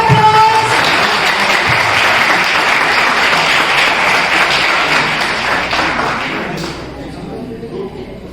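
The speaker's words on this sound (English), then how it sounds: "Please give a huge round of applause." A college fest audience bursts into sustained, dense applause that fills the hall at full strength, then thins and fades near the end, with faint voices mixed in.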